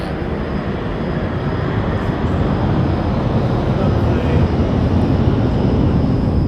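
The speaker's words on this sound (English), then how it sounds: "Naturally, a plane flew overhead right at that moment." A fixed-wing airplane flies overhead, its broad roaring rumble swelling slightly louder as it passes, steady throughout and loud, with no one talking.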